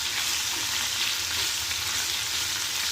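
Karonda berries and chillies sizzle and crackle continuously in a hot pan as they are stirred and mixed, a close, steady frying hiss with no talking.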